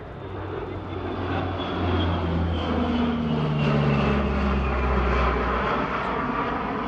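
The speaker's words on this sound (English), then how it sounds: "This is another maritime patrol and anti-submarine warfare asset, but designed as a land-based aircraft with more and better sensors and greater endurance" A land-based maritime patrol and anti-submarine warfare aircraft in RAAF service passes at an airshow, its propeller engines droning steadily and swelling louder toward the middle with shifting low tones.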